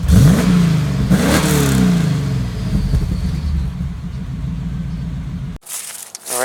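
A 1997 Chevrolet Camaro Z28 30th Anniversary V8 revs hard while driving, rising and falling in a couple of loud, smooth sweeps before settling into a steady rumble, then cutting to a brief quieter section.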